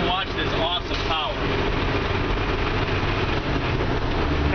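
A 2001 Freightliner FL-80 tandem grain truck with a Cummins engine and 9-speed gearbox shifting into 8th gear, a steady low engine drone running at speed with a brief voice near the start.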